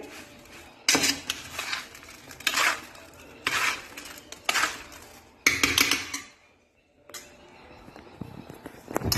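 Carrot pickle being mixed with salt and chilli in a metal pot, giving repeated clattering scrapes and clinks of utensil against metal in bursts, with a short quiet pause near the end.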